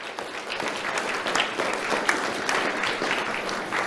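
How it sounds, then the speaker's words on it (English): A crowd claps steadily through a sheriff's office awards ceremony, dense continuous applause with scattered louder claps and no talking over it. "Let's have a round of applause for Captain Faccialonga."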